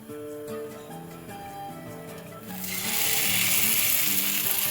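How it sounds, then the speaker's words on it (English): Loud broadband sizzling of chicken pieces hitting a hot grill pan builds up halfway through, over earlier quieter clattering and humming background. "When you put onto the chicken pieces, you should actually get to hear the sizzle"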